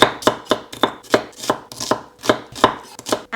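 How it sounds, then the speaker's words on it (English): A knife chops a red onion on a board with about a dozen crisp, evenly spaced cuts in a brisk steady rhythm, loud and close with no talking. "Just going to chop this up."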